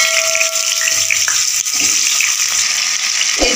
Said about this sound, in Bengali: এরপর আমি আলুটা 3-4 মিনিট ধরে ভালো করে ফ্রাই করে নেব।